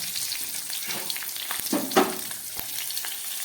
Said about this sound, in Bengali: একটু জিরে ফোড়ন দিয়ে দিচ্ছি, সাদা জিরে দিয়ে দিচ্ছি, একটা তেজপাতা, দিয়ে দিচ্ছি 2টো কাঁচা লঙ্কা